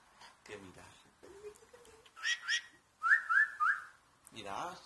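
A parrot gives several short rising whistles, close and clear, between quiet human voices.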